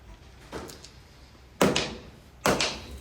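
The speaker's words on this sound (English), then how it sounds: "Two relatively gentle knocks there." Two sharp knocks on a phone screen with no protective film, each a distinct hard tap with a brief ringing decay, spaced about a second apart after a softer handling sound.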